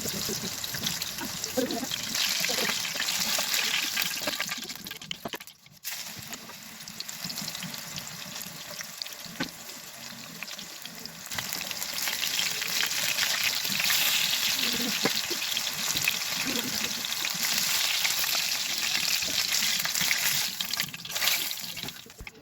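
Pieces of chicken chaap fry in oil on high heat with a loud, continuous sizzle and crackle, briefly quieter partway through, then building again.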